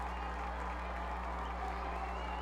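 Near-capacity stadium crowd of fans at a high school football game, a steady dense roar of cheering and applause that carries on without a break under a low constant hum.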